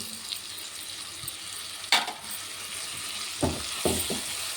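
Food fries and sizzles in a pan as chopped tomato goes in, a steady close sizzle broken by a few sharp scrapes and clatters of stirring, with no voices.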